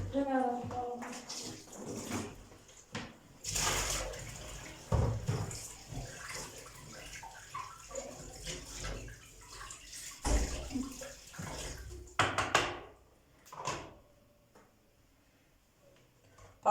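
Fish being rinsed under running tap water, a steady splashing wash with intermittent clatter, heard beneath ongoing conversation.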